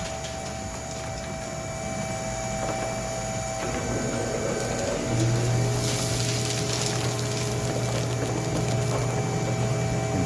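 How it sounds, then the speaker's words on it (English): A homemade squirrel husker and blower start up one after the other, giving a steady mechanical hum and whir with faint rattling. The sound thickens midway as the second machine joins, at moderate volume with no talking. "First, we're gonna fire up the husker. Next, we're going to fire up the blower."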